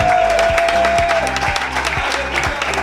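Church congregation in Kofikro applauding to acclaim the Lord, a loud dense burst of clapping from a crowd, mixed with rhythmic beats and a sustained tone underneath.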